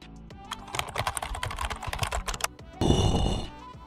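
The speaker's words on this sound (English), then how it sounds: "Navigate down to the search bar. And type msconfig." Rapid tapping on a computer keyboard, a short run of close, crisp keystrokes, then a brighter burst of clicky noise near the end, with no speech over it.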